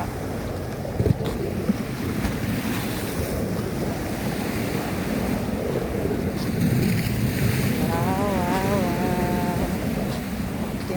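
Evening sea waves wash onto the beach at Cha-am, a continuous rushing surf mixed with heavy wind buffeting the microphone, with a faint voice-like sound briefly near the end.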